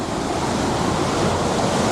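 Water rushes steadily through a tunnel, a loud, unbroken wash of noise close by with no voices.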